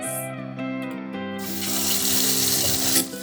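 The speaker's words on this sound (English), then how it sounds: "The first step is to give them a good rinse." Chickpeas rinsed under a running kitchen tap, the water striking them and the bowl with a loud, steady close rush that swells and grows brighter after the first second.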